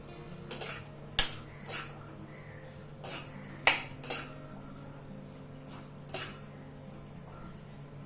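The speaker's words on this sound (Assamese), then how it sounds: "ফুলকবিখিনিও ভালদৰে লৰাই দিম" Cauliflower stirred in a pan with salt and turmeric: a string of sharp metal spoon clinks and scrapes against the pan, irregular and close, over a low steady hum, with no talking.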